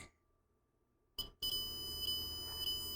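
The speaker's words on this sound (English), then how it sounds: "Oh, we're beeping." A multimeter in diode-check mode gives a sharp electronic beep, then holds a steady high continuous tone, close and clear over a quiet background with a click between.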